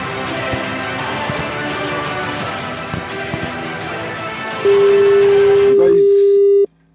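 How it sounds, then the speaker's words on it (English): A telephone call to Jos in Plateau State, placed during a radio broadcast, rings unanswered. Someone talks over studio background before a steady, loud electronic tone holds for about two seconds and then cuts off abruptly. "the phone is ringing"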